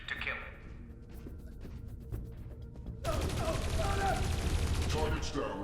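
Gunfire in the video game Dreamfall: Chapters, a dense burst of shots that swells loudly about halfway through and keeps rattling to the end under a busy game mix.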